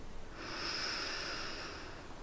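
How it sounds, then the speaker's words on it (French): A slow breath is drawn in through the nose during a guided meditation, a soft, airy inhale that swells and fades over about two seconds, close and quiet, with no talking. "Inspirez par le nez."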